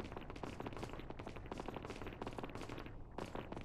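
Rapid gunfire from the video game Resident Evil 4, a dense stream of close, loud shots in quick bursts with brief gaps, no talking.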